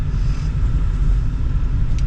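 Manual stick shift car pulling away in second gear after the clutch is released, a steady low engine rumble and road noise held close and even throughout.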